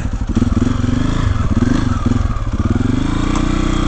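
A dirt bike engine revving and pulling along a rutted byway in Surrey, loud and close with a pulsing throttle, rattling clatter and thumps from the rough ground.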